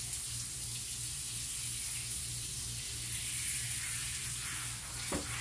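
Steady running water rinses Mr Ted during his bath, a constant hiss of the stream pouring through his hair with a faint low hum beneath and no voices.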